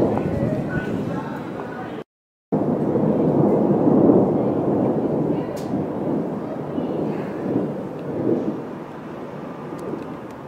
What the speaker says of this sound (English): hear the thunder there?